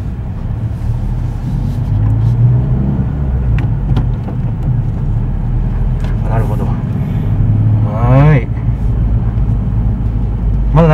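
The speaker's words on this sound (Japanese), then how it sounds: "ギアをローに入れて、まあ普通のね、マニュアルの操作ですね。 で、走っていきます" Suzuki Swift Sport with a six-speed manual gearbox pulling away in first gear: a steady, loud engine rumble beneath continuous talk from people inside the car.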